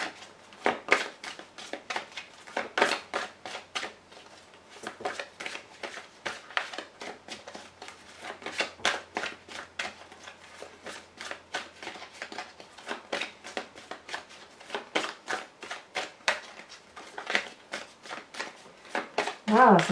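Tarot cards being shuffled by hand in rapid riffling, snapping bursts throughout, while someone speaks French over the card sounds.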